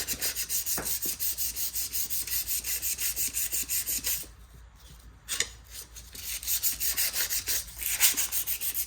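Sandpaper rasps steadily over grime on an old Delta Rockwell lathe part in quick back-and-forth strokes, close and fairly loud, pausing briefly midway before the rubbing picks up again.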